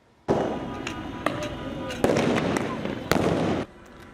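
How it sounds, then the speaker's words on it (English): Police flashbang explosions in downtown Los Angeles during a night of unrest: three sharp loud blasts over a sustained roar of crowd noise, close and harsh. "Explosive flashbangs and clouds of tear gas filled downtown LA last night as police declared an unlawful assembly."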